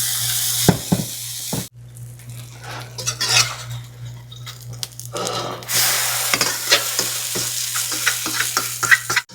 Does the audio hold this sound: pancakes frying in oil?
yes